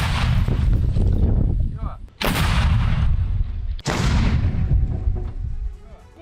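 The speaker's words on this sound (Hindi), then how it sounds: "रूसी सेना की आर्टिलरी का एक्शन" Russian army artillery fires during the Russia–Ukraine war: two loud, sharp booms about a second and a half apart cut through a heavy, continuous rumble.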